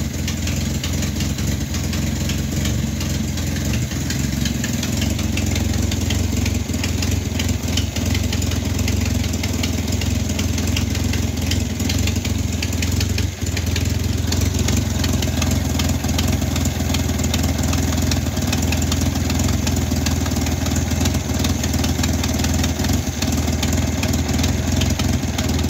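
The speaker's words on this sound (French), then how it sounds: "Le moteur marchait bien." A Renault R11 GTL engine idles steadily at close range, giving a continuous, even mechanical hum and rumble with no speech over it.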